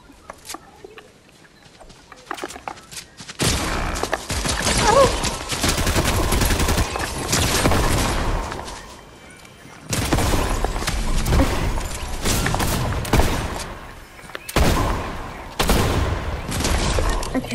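Bursts of Fortnite gunfire in a Chapter 4 Season 3 duos match, loud rapid volleys in several separate stretches with short quieter gaps between them.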